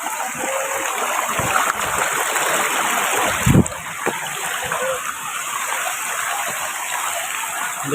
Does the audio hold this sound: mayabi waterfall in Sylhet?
yes